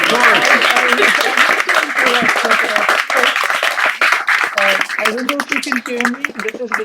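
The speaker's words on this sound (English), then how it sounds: "Give Tom Daley a round of applause" Audience applause at a hybrid poetry reading, close mixed clapping going on under an overlapping voice that keeps talking throughout.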